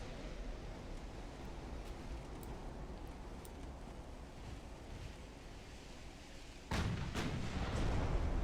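Naval guns firing in Ultimate Admiral: Dreadnoughts over a constant roar of sea and wind, then one heavy boom near the end that lifts the whole mix to a louder rumble.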